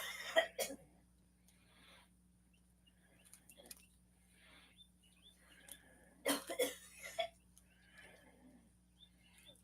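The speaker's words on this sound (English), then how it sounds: "don't ask me that when I'm coughing" A person coughs in two loud, harsh bursts, one right at the start and another a few seconds later, with a quiet room hum and faint rustling in between.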